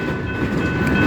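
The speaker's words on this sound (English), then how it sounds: "The train coming right back across the crossings here." A freight train rolls across grade crossings near a yard on the Mykawa sub. Loud, close rumble and rattling wheels, with a steady horn-like tone held over the noise.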